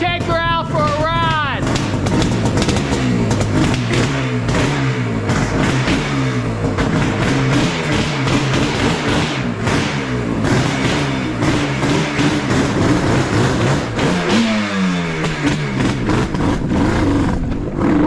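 A 1979 Yamaha RD400F Daytona Special two-stroke motorcycle engine runs loud and close throughout, its revs rising and falling, with a voice talking over it at times.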